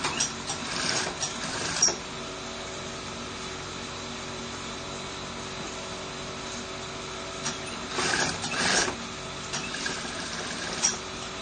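A sewing machine stitching a placket on a child's garment runs in short bursts of rapid whirring, with a steady quieter hum between them and a few louder spurts near the start and end.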